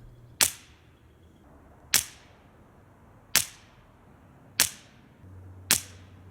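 Five sharp, muffled .22LR rifle shots through an AAC Pilot suppressor at steady intervals of roughly one and a half seconds, each a quick crack with a short fading tail, no talking.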